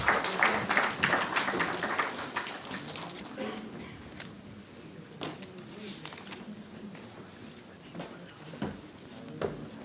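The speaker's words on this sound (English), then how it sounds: "So please give him a very big round of applause." An audience at a hospital arrhythmia symposium claps for senior faculty guest Dr. Sethi, a burst of applause that is strongest at first and then thins into scattered, fading claps.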